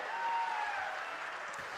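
A dense crowd applauds at an outdoor political rally welcoming Rahul Gandhi, a continuous roar of many hands clapping at a steady level, distant and unbroken throughout.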